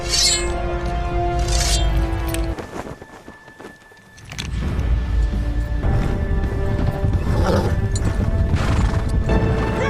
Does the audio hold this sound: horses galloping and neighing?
yes